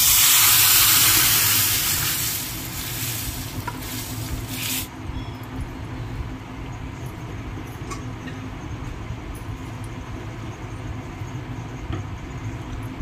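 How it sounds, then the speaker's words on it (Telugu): Curry leaves and asafoetida tempering in hot oil, a loud sizzling hiss that bursts at the start and settles into a steady crackling fizz over a low background rumble, with no talking. "ఇప్పుడు దీన్ని తాలింపు వేసుకుంటాం"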